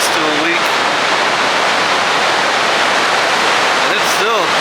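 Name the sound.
water rushing through the open gates of Table Rock Lake Dam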